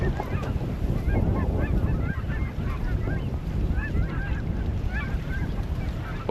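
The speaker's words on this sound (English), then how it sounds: "Wow, these geese are coming in." A large flock of geese coming in over water, honking constantly in overlapping calls at mid distance, with wind buffeting the microphone underneath.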